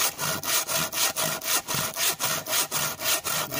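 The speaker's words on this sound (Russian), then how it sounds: "Пила туда, пила сюда." A hand saw rasps through firewood in quick, even back-and-forth strokes, close up and rhythmic, about three strokes per second.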